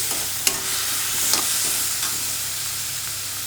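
Tomatoes sautéing in a pan for a dal-free sukku milagu kuzhambu, a steady close sizzle with a few sharp spatula taps and scrapes.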